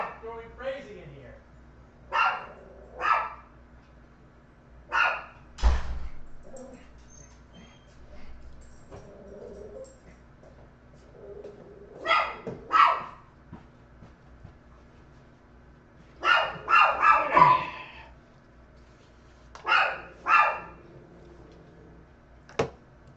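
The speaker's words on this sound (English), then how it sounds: "My dog's having a meltdown over the market" An indoor dog barks repeatedly in short sharp bursts, some in quick clusters, loud and close, separated by quiet gaps with occasional soft speech.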